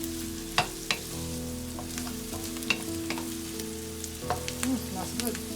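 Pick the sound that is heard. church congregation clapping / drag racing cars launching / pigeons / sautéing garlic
sautéing garlic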